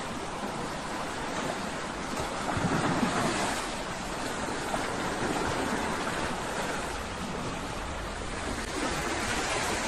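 Strong water current rushing over rocks near the entrance of Bantay Abot Cave, a loud, constant roar with gusting wind buffeting the microphone.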